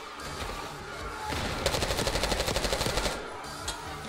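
Gunfire in the Call of Duty Black Ops 6 video game campaign: a sustained rapid automatic burst of evenly spaced shots over steady background noise, with a single later shot.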